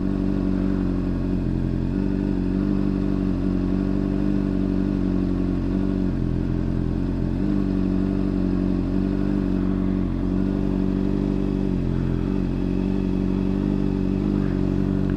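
A motorcycle engine idles and sags under load as the clutch reaches its friction point, a steady, close, low rumble with slight dips and clatter, no talking.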